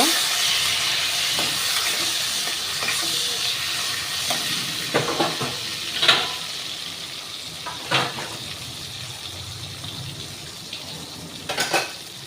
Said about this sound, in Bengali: আমি চিংড়ি মাছগুলোকে ভেজে নেব।